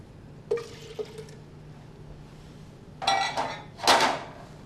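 Water poured for a strawberry smoothie, heard as a brief splash early on and then two louder gushing bursts near the end over a quiet kitchen hum.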